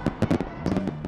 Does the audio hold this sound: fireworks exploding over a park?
yes